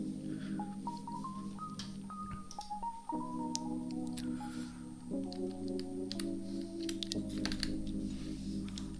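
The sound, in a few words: typing on a mechanical keyboard, sound test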